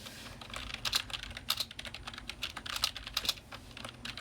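Rapid, irregular clacking of keys on a computer keyboard while sweater listings are typed in an office, close and crisp with short pauses between bursts, no voices.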